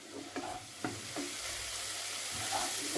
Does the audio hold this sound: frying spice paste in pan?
yes